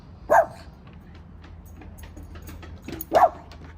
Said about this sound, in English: And this one's just barking for no reason.